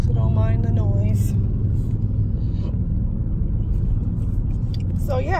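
Steady low road rumble from inside a moving car on a San Francisco trip, continuous and fairly loud throughout, with a voice talking briefly near the start and again at the end.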